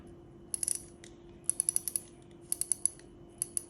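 A Daiwa Emeraldas Air LT 2500S-DH spinning reel turns in bursts of fast, crisp ratcheting clicks, three short runs close to the mic over a steady low hum.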